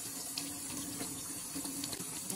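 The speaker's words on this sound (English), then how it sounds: "And then wash it with warm water." Warm tap water runs steadily into a sink to wash a live crab, a continuous close splashing hiss with no speech.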